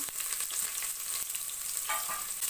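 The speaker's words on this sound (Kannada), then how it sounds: "ಚೆನ್ನಾಗಿ ಫ್ರೈ ಮಾಡ್ಕೋತಾ ಇದ್ದೀನಿ ಒಗ್ಗರಣೆನ" Garlic and onion sizzle in hot oil in a pan with curry leaves and dried red chillies for a tempering, a steady close crackling hiss broken by a few light stirring clinks, with no voices.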